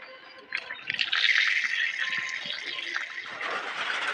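Water splashes and runs while shampooed hair is rinsed. Quiet at first, then a close, steady rush of pouring and trickling with small drips and slaps, continuing to the end with no talking.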